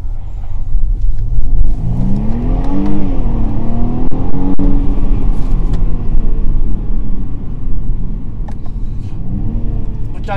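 A BMW M135i pulls hard under full throttle, its engine note loud and close, rising and falling in pitch through the gears over a steady road rumble.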